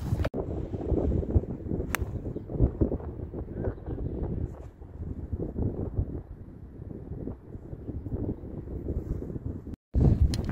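Wind on a golf course buffets the microphone with a continuous, rumbling roar that swells and dips, with one brief dropout near the end.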